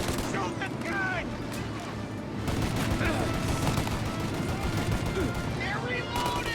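Gunfire rattles through a shootout in the video game Mafia Definitive Edition: a dense, continuous barrage of close shots and bursts with no real pause, while voices shout over it.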